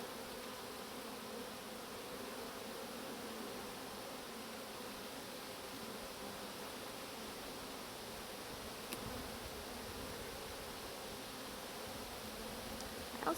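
Honeybees swarm around an open hive during a summer inspection, giving a dense, even buzzing hum that holds steady at close range, with a faint click or two near the end.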